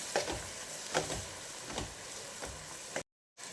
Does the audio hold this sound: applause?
no